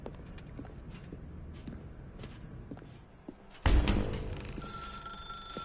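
Telephone ringing in the video game The Stanley Parable, a sudden loud ring bursting in after quiet scattered footsteps and thumps, sustaining with a bright electronic tone, close and clear with no talking.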